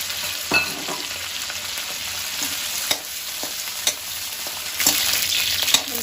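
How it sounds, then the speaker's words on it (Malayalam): Cauliflower pieces frying in about six tablespoons of hot oil for a pulao, a steady bright sizzle with occasional spatters and scraping stirs, close and alone with no voices. "കോളിഫ്ലവർ ഒന്ന് വറുത്തെടുക്കണം"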